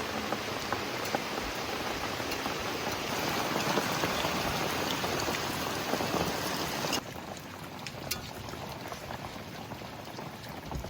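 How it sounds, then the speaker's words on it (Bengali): Steady rain falls outside a home kitchen, a dense hiss of drops at moderate level that continues throughout and thins slightly partway through. "রান্না করতে এসে 3 বার বৃষ্টি হলো, আরো যে কতবার আসবে তার ঠিক নাই।"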